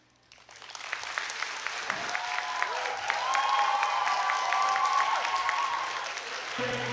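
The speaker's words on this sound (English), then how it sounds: "Another round of applause to our very own Professor Lino N, PhD." Applause from a lecture hall audience at a university honour lecture swells from quiet to a full steady clapping and holds, with some voices and tonal sound mixed in underneath.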